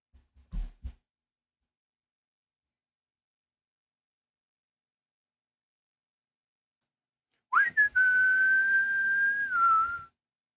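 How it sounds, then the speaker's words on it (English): A person whistles one clear, sustained note lasting about two seconds with a slight dip at the end, following a long silence broken only by a brief soft bump near the start. "Sorry for whistling."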